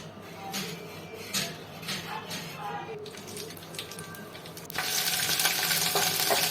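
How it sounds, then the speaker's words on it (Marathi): Quiet kitchen clatter gives way to a sudden loud sizzle as cumin, mustard seeds, curry leaves, garlic and chilli hit hot oil to temper kadhi, crackling steadily to the end. "आता आपण कढीला फोडणी देण्याची सुरुवात करूया"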